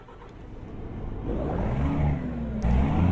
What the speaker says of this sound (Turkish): Şöyle aracımızı çalıştıralım.